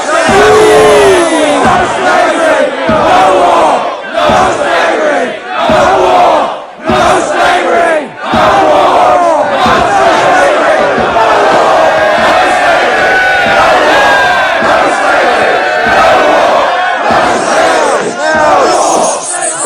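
A large crowd chants loudly and in rhythm, voices massed together in repeated shouted phrases with brief dips between them, close and dense throughout.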